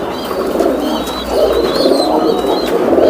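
Pigeons at a pigeon farm coo steadily and close, several birds overlapping in low, continuous throaty calls with faint chirps above.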